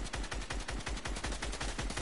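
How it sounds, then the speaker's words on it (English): Rapid automatic assault rifle fire in a video game, a steady stream of sharp, evenly spaced shots filling the whole stretch, loud and close with no talk over it. "I'm still shooting"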